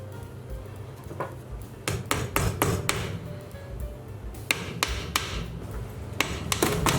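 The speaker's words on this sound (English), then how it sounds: "all I'm going to do is drive in some flathead nails in, just to hold this" Flathead nails driven into a wooden spice rack with a hammer, heard as sharp, close blows that come in quick bursts of taps with short pauses between them.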